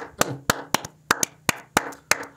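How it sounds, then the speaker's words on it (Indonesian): A single person claps hands sharply in a loose, slightly uneven rhythm, about ten crisp close claps over a couple of seconds with nothing else heard. "Kita tepuk tangan dulu."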